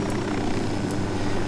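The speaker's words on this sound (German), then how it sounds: "Oh nee, da ist auch ein Hubschrauber." A helicopter in the video game Ghost Recon Wildlands drones with a steady, loud rotor and engine roar, constant and unbroken, with no talk over it.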